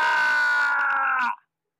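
A man's long, loud scream rings out with a strained, sustained tone and breaks off abruptly, leaving silence. It is a dramatized comic-book audio drama scene of a drunk man falling from a window.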